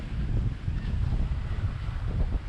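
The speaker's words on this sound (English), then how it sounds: "Wind we got aplenty." Wind while sailing among whitecaps, a steady low buffeting rush across the microphone with faint water sounds beneath, no voices.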